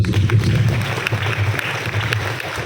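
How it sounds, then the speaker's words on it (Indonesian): Applause for a mother at a parenting seminar in an Islamic boarding school in Banten, steady crowd clapping throughout, fairly loud and dense with a low hum beneath. "Tepuk tangan buat Bunda"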